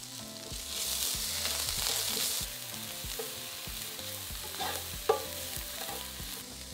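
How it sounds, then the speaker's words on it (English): Red chili, minced ginger and garlic stir-fry in a pan for a crispy chilli beef dish, with a soft steady sizzle and rhythmic spatula scrapes, plus one sharp knock late on. "cook while stirring for about 30 seconds"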